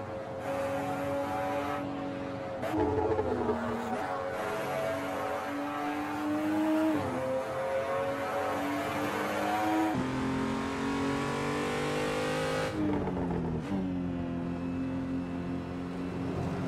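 A BMW M235i Racing car's engine revs hard on the Ring circuit, loud and close, climbing and dropping through repeated gear changes with a steady, throaty drone and no talking.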